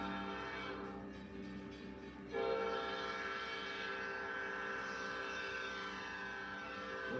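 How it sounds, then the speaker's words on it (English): A train nears a road crossing sounding its horn, a sustained, loud, chord-like blast over a rolling rail rumble that swells slightly partway through and carries on steadily. "When a train is coming to a crossing, signals, lights, and guardrails are triggered to warn everyone to get off the tracks"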